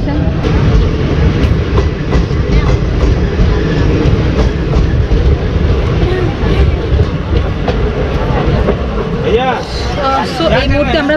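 The 19414 Kota–Ahmedabad express rolls along the rails, heard from inside a sleeper class coach as a loud, constant rumble with rhythmic clickety-clack and a murmur of passenger voices underneath.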